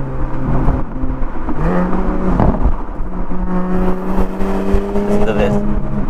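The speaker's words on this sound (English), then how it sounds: "And it crackles and it pops." Loud, close exhaust crackles and pops burst from a 2021 Porsche Panamera 4S E-Hybrid Sport Turismo over a droning engine note that rises and settles, with scattered sharp snaps.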